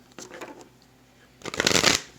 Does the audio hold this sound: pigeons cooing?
no